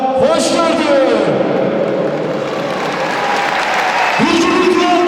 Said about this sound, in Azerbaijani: Bir cümlüklə alqışlar gəlsin